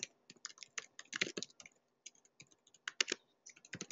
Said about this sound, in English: I'm just quickly typing out a couple answers here